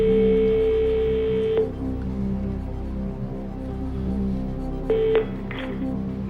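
Telephone dialing tones ahead of a call on a TV quiz show: one long steady tone, then a brief pair of tones a few seconds later, all over a low background hum, with no talking.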